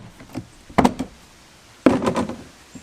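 An access door on a Sea-Doo Spark watercraft is opened with two clustered bursts of plastic knocks, clunks and latch clicks, close and fairly loud, separated by a short pause.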